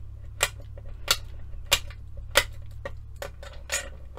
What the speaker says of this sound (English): And then we'll start chopping through again.